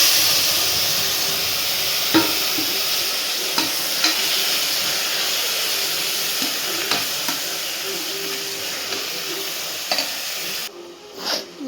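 Chopped tomatoes fry with spices in a pan, a loud steady sizzle close by, broken by a few sharp clicks from stirring and a short disturbance near the end.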